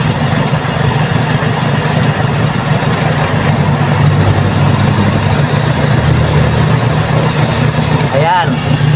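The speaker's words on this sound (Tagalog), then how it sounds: "Pihitin nyo pa, tataas ang RPM yan." A Toyota Corolla 4AF carbureted engine runs loud and close with a steady, dense rumble while its RPM is raised, and a voice is faintly present over it.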